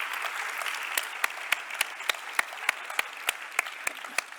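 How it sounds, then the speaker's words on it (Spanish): Steady applause from a conference audience at the SECA 2022 congress plenary session, continuous clapping with a few sharp individual claps standing out at a regular pace. "Un aplauso para ellos."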